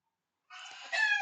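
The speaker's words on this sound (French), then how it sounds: "J'ai toutes mes poules qui s'appellent sur les autres." Backyard hens calling, a brief close burst of clucking and squawking that starts abruptly and grows louder toward the end.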